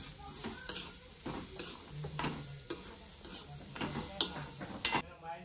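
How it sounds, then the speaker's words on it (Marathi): Semolina and sugar stirred together in a pan for mango karanji, giving irregular scraping and rustling strokes with a few sharp utensil taps against the pan, close and moderately loud. "साखर टाकून मिक्स करून घ्यायचं आपल्याला."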